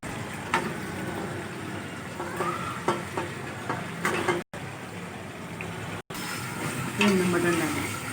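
Mutton pieces frying in ghee in a karahi, a steady broad sizzle running throughout with a few sharp clatters and brief dropouts, a voice talking over it.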